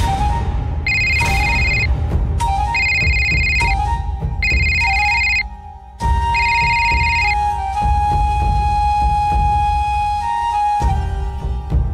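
A phone ringtone plays in repeated bright bursts, about four rings with short gaps, then carries on as a steadier ringing tone over a constant low background hum.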